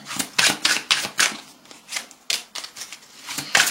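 Tarot cards drawn from a deck and laid down on a surface, a rapid series of close, crisp flicks and slaps in uneven bursts with short pauses between.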